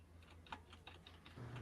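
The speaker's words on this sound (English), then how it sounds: "Who's hitting the keyboard?" Faint keyboard typing during a tabletop game session: a scattered run of light plastic clicks and taps sits low in the background over a steady hum, with no talking.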